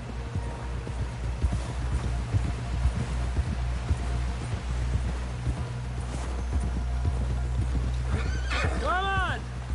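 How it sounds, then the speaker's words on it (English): In a PS4 video game, horse hooves clip-clop rhythmically over ambient game sound, ending with a loud, clear whinny near the close. "Someone help John down off this horse"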